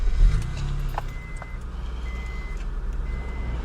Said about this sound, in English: I'm gonna start that bad boy up and let y'all hear what it sounded like.